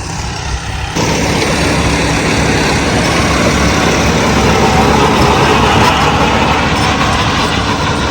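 A John Deere 5405 CRDi tractor running an 8-foot Birbal rotavator. After a brief quieter moment, it settles into a loud, steady engine drone close by, with no talk.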